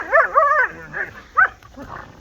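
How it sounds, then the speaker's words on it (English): Several dogs and puppies bark and yip in quick, high-pitched bursts, close and loud, with short pauses between the barks. "There's dogs everywhere. There's six. There's puppies."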